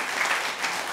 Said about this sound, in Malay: kita berikan tepukan kepada warga-warga kita.